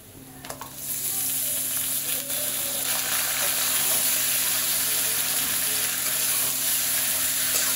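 Goat meat sizzling and frying in a hot pan, a steady loud crackle and hiss running continuously after a brief quieter start, with occasional stirring clatter and no talk.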